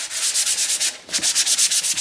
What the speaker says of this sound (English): these sponges to go around and start sanding this all through